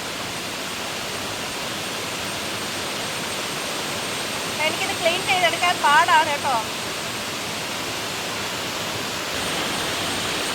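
Rushing water roars steadily and loudly from start to finish as a dense, unbroken wash of noise, with someone briefly speaking over it midway.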